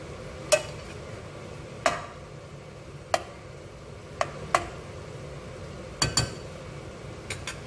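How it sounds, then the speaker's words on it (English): Ground meat for lasagna sizzles softly in a pan while a utensil scrapes and taps against it at irregular intervals, close by with no voices. "give it another stir, and as you can see, it's starting to turn brown"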